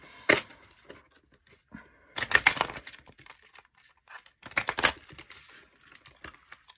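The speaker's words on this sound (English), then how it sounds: "These are not the best shuffles, but it's okay." A tarot card deck being shuffled by hand in three short bursts of papery riffling and tapping, close and fairly quiet, with near silence in between.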